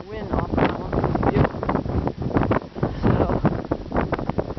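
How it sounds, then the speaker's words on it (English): Strong gusty wind on Mount Jefferson roars and buffets the microphone in loud, irregular blasts, with a person talking and breathing under the gusts. "Such a strong wind."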